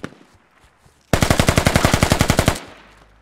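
A rapid automatic weapon burst of gunfire from the military shooter game Squad, about fifteen evenly spaced loud shots in under two seconds, preceded by faint distant pops and followed by a short tail.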